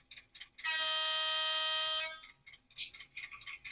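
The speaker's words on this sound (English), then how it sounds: "and then F2 is a longhorn" A PIKO N-scale Whitcomb 65-ton diesel locomotive's DCC sound decoder sounds its long horn: one loud, steady, bright multi-tone blast held for about a second and a half, then cut off, with faint handling noise around it.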